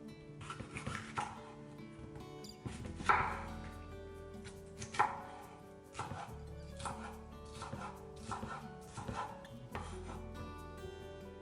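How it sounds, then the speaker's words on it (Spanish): A knife dices vegetables into small cubes on a cutting board, making a steady series of sharp close knocks in short bursts separated by brief pauses, with no voices. "lo primero es cortar las verduras en daditos"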